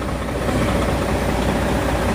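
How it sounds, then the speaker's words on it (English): Several fire engines idle at a second-alarm structure fire, a steady low diesel rumble that fills the scene continuously with no pauses and no talk. "There's a lot of engines here."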